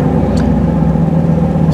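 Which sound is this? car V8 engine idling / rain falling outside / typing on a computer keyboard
car V8 engine idling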